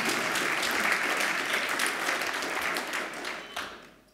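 A lecture audience gives steady, dense applause at moderate distance, a continuous patter of many hands that tapers off near the end with no voices over it.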